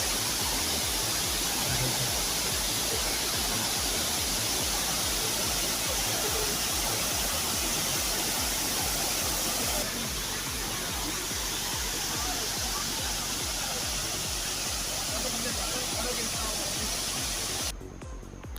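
Steady, loud rushing roar of a waterfall pouring down from a mountain, continuous broadband noise with no breaks, slightly dropping in level near the end.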